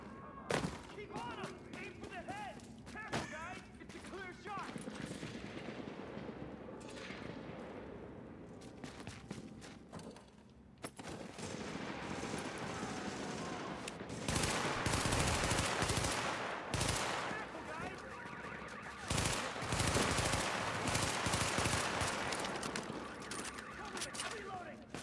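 Gunfire in The Division video game: repeated automatic bursts and single shots, loud and close, thickening into dense firing in the later half, with occasional talk over it.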